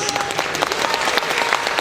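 A short burst of audience applause fills the hall at a junior high all-southern jazz band concert, brisk, dense clapping from the crowd that lasts the whole moment without speech.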